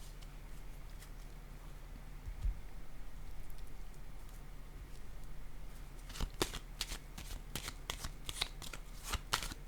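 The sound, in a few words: placing a tarot card down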